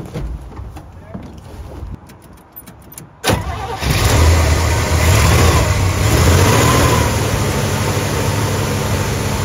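An old Chevrolet K10 truck that has sat unused since 2009 is heard with light clicks and handling noises, then the engine catches about three seconds in and runs loud and close with a strong revving roar.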